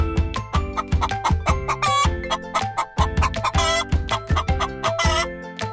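A chicken animal toy gives out a string of loud, rhythmic clucks over a bouncy musical backing, repeating quickly and close up.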